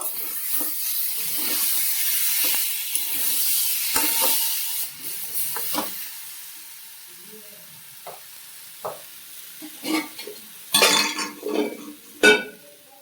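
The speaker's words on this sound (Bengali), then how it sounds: "আদা, হলুদ আর একটু সামান্য চিনি দিয়েছি। দিয়ে এটা ভালো করে কষিয়ে নেবো।" Potato curry sautéing in a pan with ginger, chili powder, turmeric and a little sugar: a steady sizzle with stirring scrapes, then quieter frying broken by sharp utensil clinks against the pan near the end.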